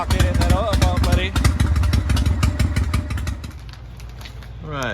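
A Harley Panhead chopper engine runs after a year of sitting, with a loud lumpy rapid-firing beat close up that settles somewhat toward the end, while a voice talks over it.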